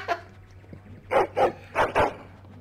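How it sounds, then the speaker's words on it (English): A dog in the video game Dragon Age: Origins barks close by, with one short yip followed by four sharp barks in two quick pairs. "What are you barking at?"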